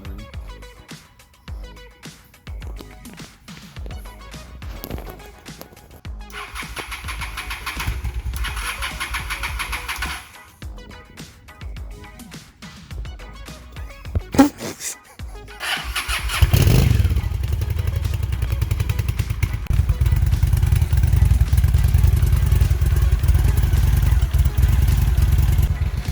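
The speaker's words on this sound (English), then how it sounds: "We got the bike to start." A 2003 Honda Shadow motorcycle that had been sitting unused is cranked through several stuttering attempts before the engine catches at about the midpoint, then roars into a loud, steady, close-up run.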